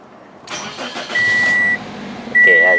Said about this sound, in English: Inside the car, the scan tool is still on there, and start the engine again.